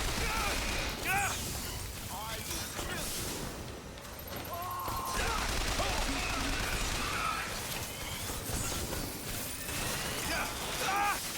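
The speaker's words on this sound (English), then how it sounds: "There's a gun turret somewhere" A gun turret in BioShock Infinite fires in sustained rattling volleys under dense combat noise and clanking mechanisms, with a person talking over the gunfire.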